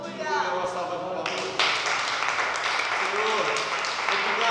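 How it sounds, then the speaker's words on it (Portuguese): A church congregation breaks into applause, a dense wash of clapping that grows fuller partway through while a preacher's voice carries over it. "Dê uma salva de palmas."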